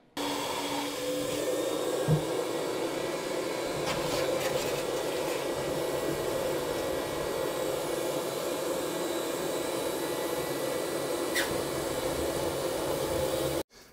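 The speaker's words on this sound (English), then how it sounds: "what we're gonna do to get this fresh water out of the tank is actually vacuum itself out using our vacuum" A steady, loud wet vacuum motor drones with a constant whooshing roar for the whole stretch as it sucks water from an ESteam Ninja Extractor tank, with occasional faint clinks and gurgles beneath.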